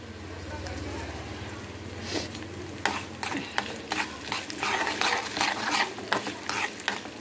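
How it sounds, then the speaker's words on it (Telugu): Cashews tempering in ghee for a pulagam side dish: a soft sizzle with a low hum, followed by a series of sharp spoon scrapes and clinks against the pan, fairly quiet and close. "ఇది నెయ్యితోనే వేసుకోవాలి తాలింపు"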